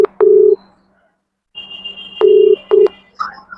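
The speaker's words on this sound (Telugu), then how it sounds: "మరి అతనితో కాల్ మాట్లాడదాం ఫస్ట్" Telephone dialing tones while a call is placed: loud, clear keypad beeps in short bursts, one early and two later, separated by a stretch of silence, with a faint tone and a final chirp at the end.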